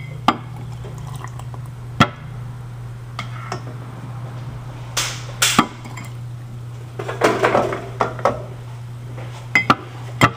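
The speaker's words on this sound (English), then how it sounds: "I'm just gonna mix this up until like the custard powder is completely dissolved and mixed in with the milk." A cooking spoon mixes custard powder into milk in a non-stick pot, scattered clinks and scrapes against the pot with wet stirring sounds over a steady low hum.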